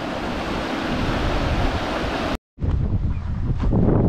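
Loud, steady roar of rushing water with heavy broadband wash, briefly cutting out before resuming.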